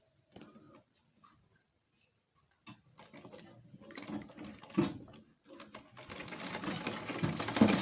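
A sewing machine stitches a fabric bodice in short close bursts, its rapid mechanical whir and ticking starting, stopping, then running longer and louder toward the end, with no talk.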